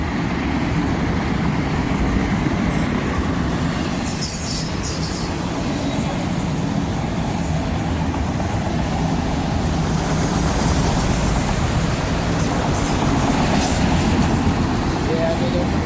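A CSX freight train led by two CSX locomotives, the second an EMD SD70MAC, rolls past close by with a steady rumble and clatter of wheels on track, and occasional higher squeals as people talk over it.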